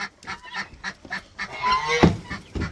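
Guinea fowl on a farm give a run of harsh, repeated honking calls in close, uneven bursts with no talking.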